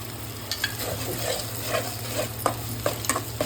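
Spices with curry leaves and turmeric sizzle softly in a hot pan while a spoon scrapes and stirs, with light clinks and taps over the steady frying hiss.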